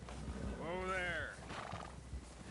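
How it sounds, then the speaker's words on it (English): A horse in Red Dead Redemption 2 gives a clear, rising whinny close by, with soft hoof clops and rustling beneath and people talking around it. "Get a hold of that horse, Morgan."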